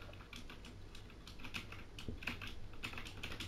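Quiet close-up typing on a computer keyboard, a steady patter of individual key clicks with no talk.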